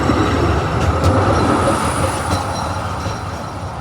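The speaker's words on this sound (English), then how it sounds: "Here is one of the Ansaldo Grader, I think, 6000 series of tram arriving into Turin city centre" An Ansaldo 6000 series tram pulls into Turin city centre, its steady loud rumble of wheels on rails carrying faint squeals and clicks throughout, with no voices over it.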